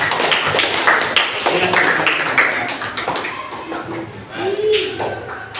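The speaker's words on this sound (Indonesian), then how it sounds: "Tepuk tangan untuk kita semua." Classroom applause from a group of students, dense irregular clapping mixed with voices and chatter throughout, moderately loud and close.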